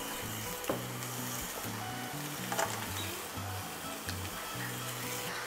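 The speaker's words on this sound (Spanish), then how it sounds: "en una sartén voy a agregar todo el pollo. Este no debe de tener nada de aceite" Chicken sizzling in a dry frying pan with no oil gives a steady, moderately loud hiss, with a few light knocks over a low droning hum.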